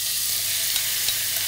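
Prawns sear in a hot pan for about thirty seconds, giving a steady, close, loud sizzle that fills the whole stretch without a break, with a few faint clinks over it and no voices.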